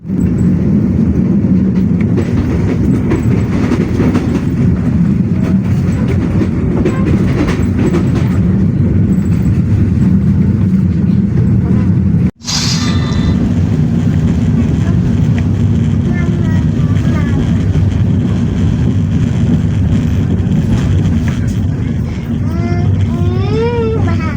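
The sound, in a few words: KA Pandanwangi train pulling into Banyuwangi Kota station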